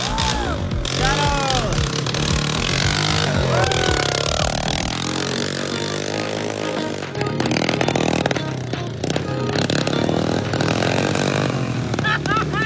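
A dirt bike engine starts up and revs in a forest during off-roading, loud and close, its rising and falling whine mixed with another bike idling and people talking over it.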